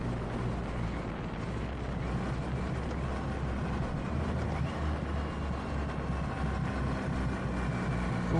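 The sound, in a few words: Triumph Rocket 3 GT motorcycle three-cylinder engine running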